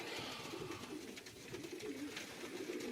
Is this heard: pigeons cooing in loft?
yes